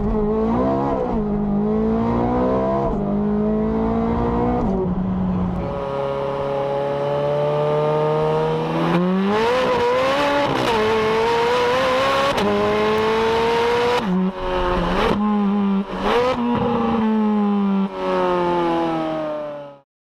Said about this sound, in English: Mid-engine V8, screaming but not desperate, loud but not obnoxious.